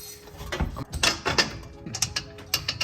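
Close metallic clicks and ratcheting from a wrench tightening two exhaust flange bolts on a Toyota Corolla hatchback during a quad-tip exhaust install, with irregular bursts of short taps and scrapes.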